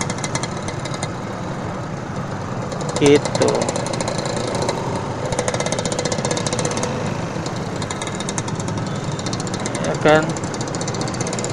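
A smoky motorcycle engine runs steadily on an Indonesian road between Bekasi and Cililitan, a rough mechanical drone with brief louder bursts, while a rider talks over it.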